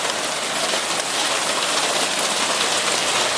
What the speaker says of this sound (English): hailstorm here.